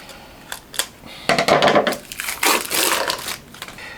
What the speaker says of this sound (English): let's get the wrap cut off